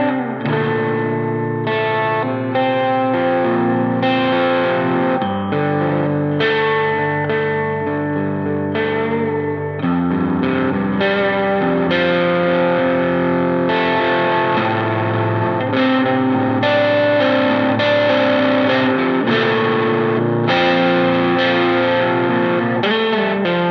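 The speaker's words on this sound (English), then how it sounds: "smooth distortion character that is a little punchier than your traditional rat sound" Electric guitar through a distortion pedal set to low gain, giving a smooth, punchy, thick overdrive; continuous chords and riffs played up close and loud for over twenty seconds, with no talking.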